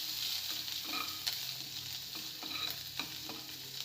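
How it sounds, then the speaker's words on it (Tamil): Crushed garlic sizzles softly in hot oil alongside fennel seeds in a pan, with a low steady frying hiss and a few light stirring scrapes, fairly quiet and with no talk. "லேசாக வதக்கிக்கலாம்"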